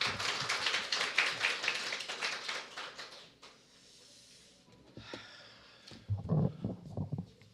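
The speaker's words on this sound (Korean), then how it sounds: "박수로 맞아주시기 바랍니다." A room full of people at an urban agriculture policy workshop claps for a few seconds, dense and fairly quiet, then the applause fades into scattered taps and shuffling.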